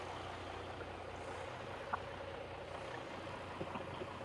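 A truck rolls past a commercial truck dealership lot. The engine gives a steady, low rumbling drone, moderately distant, with a few faint clicks and hisses mixed in and no voices.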